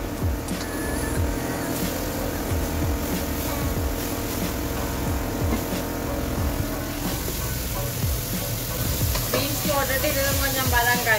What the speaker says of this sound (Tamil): இப்போ மஷ்ரூமும் வெங்காயமும் வதங்கிட்டு இதுக்குள்ள நான் வந்து பீன்ஸ் போடுறேன்.